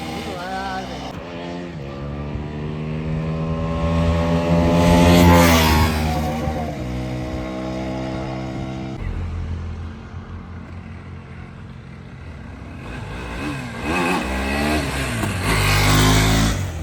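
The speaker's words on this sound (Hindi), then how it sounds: "मीटियोर में व्हीली मारने जा रहा है।" A Royal Enfield Meteor motorcycle engine revs up and down repeatedly, rising pitch swells and falling, loud and close, with a second rev burst near the end before a wheelie.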